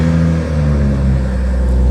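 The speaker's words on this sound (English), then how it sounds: "Hear the exhaust real quick." BMW X3 M40i with front-mount intakes, its exhaust rumbling loud and close at a deep steady idle with a slight rise in revs, no voices over it.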